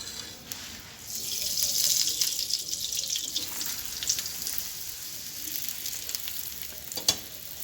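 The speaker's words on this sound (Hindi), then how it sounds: "और अब हम इसमें जो है वो देसी घी डालकर इसको अच्छी तरह से सेक लेंगे।" Aloo paratha fries in desi ghee on a hot pan, giving a continuous close sizzle with scattered crackles and pops, loudest early on, plus a sharp clatter near the end.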